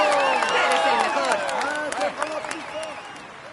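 A crowd applauds and cheers for the Tour de France green jersey winner, steady clapping mixed with whistles and shouting, while voices talk over it nearby.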